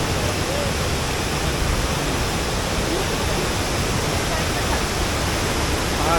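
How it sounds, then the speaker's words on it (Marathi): The Savatkada waterfall at Chunakolvan in the Konkan, India, roars continuously in full flow, a dense, steady rush of water that fills the whole scene at close range. "सुंदर असा धबधबा आणि पूर्ण धबधबा भरून वाहतो आहे"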